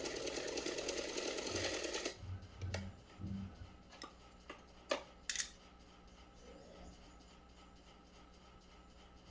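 A sewing machine stitches a small yellow dhoti dress for a doll, running in a fast steady whir for about two seconds, then stopping, followed by a few quiet clicks and taps of handling.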